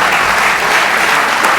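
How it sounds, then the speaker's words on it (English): Dense, steady audience applause at a lecture event, a loud continuous wash of many hands clapping with no speech over it. "I would like to ask you for an applause for the people who made this possible"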